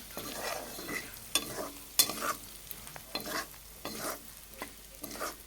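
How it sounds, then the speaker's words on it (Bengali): Onions and green chillies fry in a pan with ground cumin, coriander, chilli and turmeric, making a busy sizzle as a spatula stirs and scrapes in repeated strokes, with a few sharper clacks against the pan. "এখন পেঁয়াজের সাথে সব মশলাগুলো একটু ভেজে নেব"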